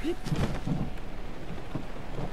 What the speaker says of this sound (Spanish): vamos a ver a dónde quiero ir en mitad de esta lluvia